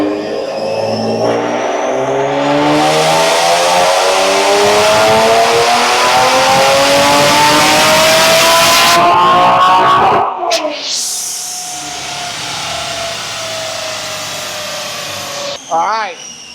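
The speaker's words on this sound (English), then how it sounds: "Let's see what kind of horsepower Steve got out of this Soho kit" A car engine fitted with a turbo kit revs hard on a dyno, a loud sustained rising roar climbing in pitch for about ten seconds before cutting off abruptly and settling into a lower idle whoosh, with a brief blip near the end.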